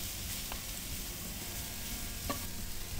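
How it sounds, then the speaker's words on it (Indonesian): Mushrooms being stir-fried with smoked beef in a pan give off a steady, dense sizzle, broken by a couple of soft scraping stirs. No one speaks. "Kita tumis sampai jamur ini layu guys."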